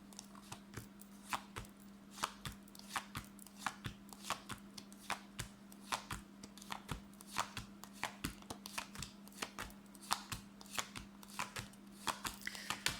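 Tarot cards are shuffled and handled close up in a quiet room, a rapid run of crisp card flicks and taps with no talking.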